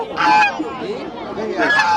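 Local ducks at a rural market quack and honk loudly up close in short nasal bursts, a couple of calls overlapping within a couple of seconds.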